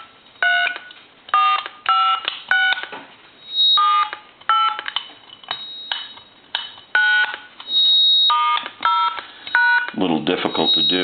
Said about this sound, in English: let's go ahead and dial some numbers